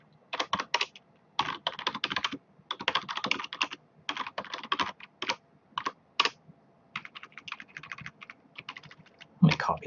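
Typing on a computer keyboard during game development work, heard as close, crisp bursts of rapid key clicks with short pauses between runs and no talking.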